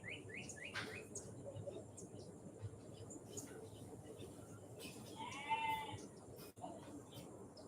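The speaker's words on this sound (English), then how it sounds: "you can hear little cabrita, little baby goat, making a little bit of morning chatter" Outdoors in Costa Rica on an early morning, a baby goat gives a faint, distant bleat amid scattered bird chirps and soft low talk.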